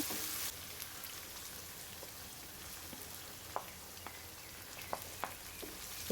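Small shallots sautéing in oil in a pan for Tamil kara kuzhambu produce a steady, even sizzle with a handful of light pops and clicks near the end.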